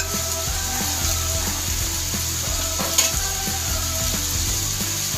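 Ground pork giniling fries in a pan, a continuous close sizzle with small irregular pops and crackles running steadily throughout, no voices.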